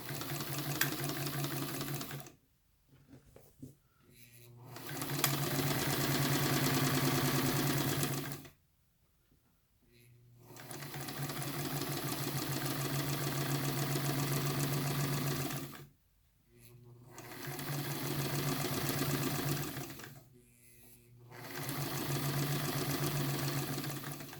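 A sewing machine stitching a line across fabric along marked lines for a sleeve, running in long steady bursts with several short pauses between them, close and fairly loud.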